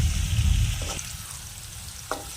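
Onions sautéing in a pan for a potato pepper fry, with a steady broadband sizzle and two brief scraping stirs of a spoon against the pan, heard close.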